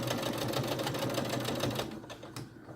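Sewing machine locking a stitch on a drawstring backpack, a quiet, close, rapid mechanical chatter that runs steadily then eases off into a few faint clicks.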